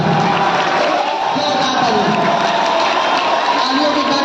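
A loud, dense wall of applause and cheering from students at a class 12 farewell party, greeting an Urdu teacher, sustained without a break.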